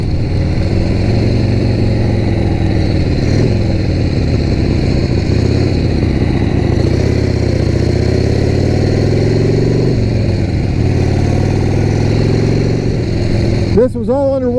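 A 1976 Harley-Davidson Ironhead Sportster rumbling steadily at cruising speed on the road, loud continuous engine drone with shifting pitch and heavy wind roar, a brief voice near the end.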